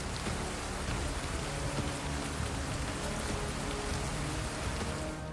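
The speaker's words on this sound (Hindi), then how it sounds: "बारिश शुरू हो गई।" Steady rain falling in a forested rural area of Bijapur, Chhattisgarh, a dense continuous hiss of drops on surfaces that holds at an even level throughout, with no voices.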